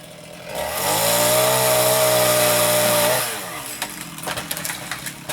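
Chainsaw trimming tree limbs beside a gate: the saw revs up to a loud, sustained high whine for about two seconds, then drops back to a rough idle with scattered clatter and knocks, no voices.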